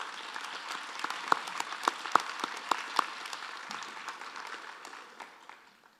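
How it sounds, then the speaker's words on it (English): Audience applauding at a university distinguished educators hall of fame ceremony in a hall, steady clapping from a crowd that gradually fades out. "please give him a round of applause for his accomplishments."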